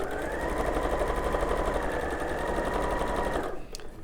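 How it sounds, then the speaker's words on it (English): A sewing machine runs steadily, stitching fabric pieces together along a diagonal line, a close, loud, continuous whirring hum that stops abruptly near the end. "I'm going to sew all the way down."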